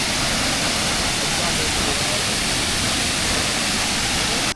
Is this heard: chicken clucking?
no